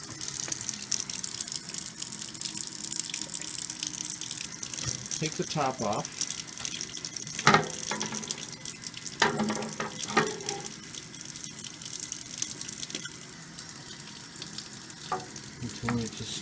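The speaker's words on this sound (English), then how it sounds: "Turn on the cold water." A cold-water sink tap runs steadily around a pot of homebrewed oatmeal stout set in the sink to cool, making a continuous splashing hiss. Occasional clunks of the pot and a short spoken remark break through it.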